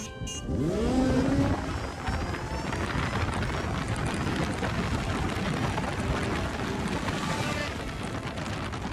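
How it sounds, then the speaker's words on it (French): Zero FX electric motorcycle launching hard from 0 to 100 km/h alongside a 2005 Yamaha Fazer 1000, a steady loud roar of engine and wind rushing past the microphone for the whole run. "voilà un départ de 0 à 100 face à une Phaser 1000 de 2005."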